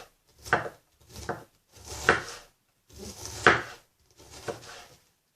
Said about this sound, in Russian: Нарезаем капусту.